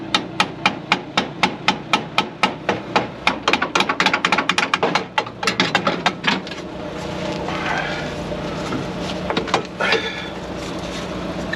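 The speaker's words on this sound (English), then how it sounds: "You can just hammer the actual bolt because it's got a soft head on that." Rapid, evenly spaced hammer blows on a Ferrari suspension bolt ring out close by, dozens of sharp metal strikes that slow and fade into a scraping clatter and background hum.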